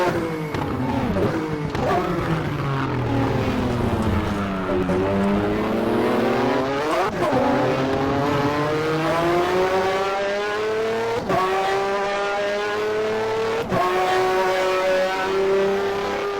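A 2014 Formula One car in the rFactor racing game howls through a lap, its loud engine pitch climbing and dropping with repeated gear shifts and braking, continuous and close throughout.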